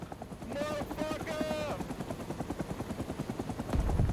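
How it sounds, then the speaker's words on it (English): A helicopter in the Vietnam-era shooter Rising Storm 2: Vietnam, heard from the combat pilot role, thumps with a steady rotor pulse alongside bursts of gunfire. A voice rises briefly over the opening stretch before the rhythmic pounding carries on alone. "That's a really cool helicopter."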